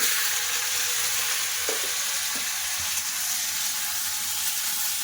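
Flat beans frying in hot oil with neem flowers and black cumin, a steady close sizzle and hiss with a few soft stirring knocks, no voices.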